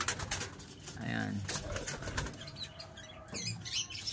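A racing pigeon lands at the loft with a quick flurry of flapping wings, close by, followed by softer shuffling and faint cooing.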